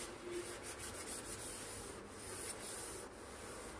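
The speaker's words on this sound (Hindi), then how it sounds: "इसे भी हम हल्के हाथों से रब करके साफ कर लेंगे।" A wet scouring pad with a few drops of dish soap scrubs the oily surface of an Elica kitchen chimney in a steady, close, gritty rubbing that runs continuously and alone, fairly quiet.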